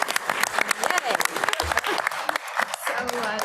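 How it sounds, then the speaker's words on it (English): Applause at a school board meeting, brisk clapping from a modest gathering with distinct individual claps, close and lively, with voices mixed in among the clapping. "I'm going to pause right now so we can give him a round of applause for that."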